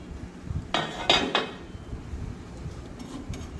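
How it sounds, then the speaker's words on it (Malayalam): Rava upma stirred in a pan: three quick metallic clanks and scrapes of a spoon against the pan near the start, then a quiet, faint background. "കട്ടയില്ലാതെ ഒന്ന് ഇളക്കി എടുക്കാവുന്നതാണ്"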